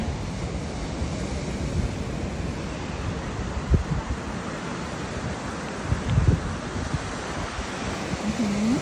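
Sea waves wash onto a beach while wind buffets the microphone, a continuous roar with a few louder gusts and no talking.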